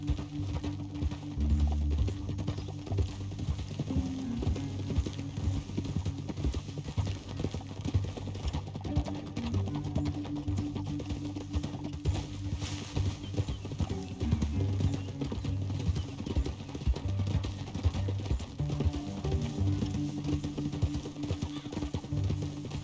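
Steady horse hooves clopping at a trot in Red Dead Redemption 2 for the whole stretch, with a low rumbling game soundtrack underneath and no talking.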